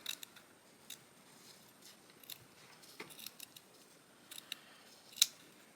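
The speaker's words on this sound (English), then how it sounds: "And then I just go around and trim it." Small scissors snip around the edge of a finished cross-stitch fabric piece, a series of faint, close, crisp cuts spaced irregularly, with one sharper snip near the end.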